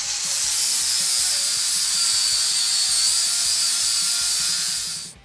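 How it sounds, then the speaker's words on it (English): Power grinder working on a steel pipe for a lawn roller repair, a loud, continuous high-pitched grinding whine that holds steady for about five seconds before winding down. "Okay, so we finished grinding the pipe for the roller"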